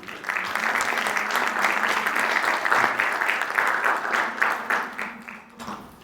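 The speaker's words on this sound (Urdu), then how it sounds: "تو میں چاہوں گا کہ کچھ تالیاں ہمارے ان دوستوں کو" Audience applause at an evening event honoring Ashfaq Hussain, a steady dense wash of many hands clapping for about six seconds before tapering off near the end.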